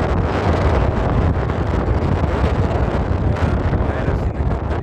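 Strong, steady wind at Skepholm near Stockholm buffeting the microphone, a loud continuous roar that stays constant throughout.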